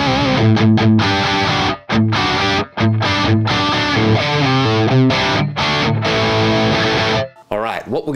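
Distorted electric guitar played through an Axe-Fx Friedman HBE amp model with a V30 SM57 cab impulse chugs in rhythmic chords with short palm-muted stops, loud and close, ending in a brief ringing tail.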